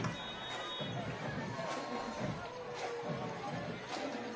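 Chowchilla fans cheer at a high school football game against Dos Palos, a steady crowd roar heard from a distance in an open stadium with a few louder swells.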